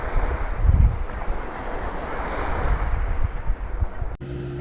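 Waves break and wash along a long beach in Kuantan, Malaysia, a steady surf rumble swelling early on, with wind buffeting the microphone and a sudden cut near the end.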